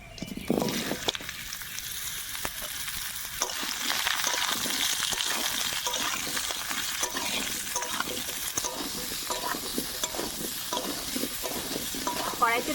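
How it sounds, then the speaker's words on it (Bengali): Raw mango pieces stirred in hot mustard oil with five-spice tempering in a wok: a steady close sizzle of frying with scraping stir strokes, no talk. "কড়াইতে দেওয়ার পরে আমটা কিছুক্ষণ ধরে নাড়িয়ে চাড়িয়ে নিয়েছি।"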